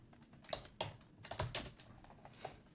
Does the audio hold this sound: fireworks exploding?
no